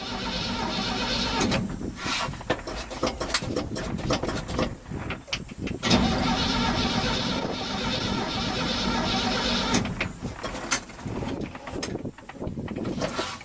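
A 1967 Chevy C10 pickup engine cranking on the starter, uneven bursts of churning with short gaps, heard close with wind or handling noise and brief voices in between.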